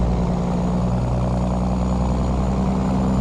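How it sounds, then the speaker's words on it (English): A truck engine drones with a low, steady grinding rumble while driving, loud and continuous from start to finish with no talk. "That's the sound I can't get away from on this engine, man."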